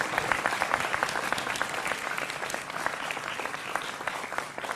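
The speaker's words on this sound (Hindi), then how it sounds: "जोरदार तालियां अनवर पाशा के लिए भी।" A studio audience on a Hindi television political debate show applauds a guest, with dense, steady clapping at moderate loudness and no talk over it.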